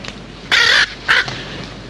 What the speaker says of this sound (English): Sergeant, get rid of that bird immediately.